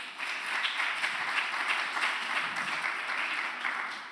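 Sustained audience applause at a school food conference, a dense even wash of many hands clapping for the whole stretch, fairly loud and with no talking.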